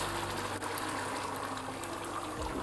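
Water pours steadily from a kettle into a stainless steel bowl, a continuous close trickling splash with no talk.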